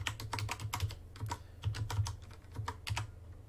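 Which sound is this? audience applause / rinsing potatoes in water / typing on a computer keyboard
typing on a computer keyboard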